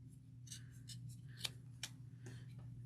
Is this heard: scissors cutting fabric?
yes